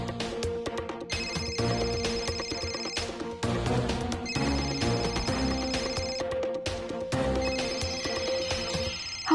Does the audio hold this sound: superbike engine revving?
no